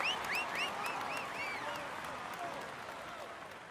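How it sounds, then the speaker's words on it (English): Steady crowd applause in the PS4 game Tour de France 2019 fills the scene, with high whistles chirping over it early on before the clapping continues on its own. "Come on, let's applaud him once more"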